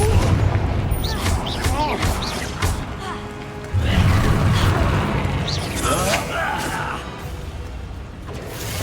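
Spell explosions from Bombarda and Confringo in the Hogwarts Legacy video game, a series of loud booms and crashing blasts in quick succession, with a voice calling out spells over the top.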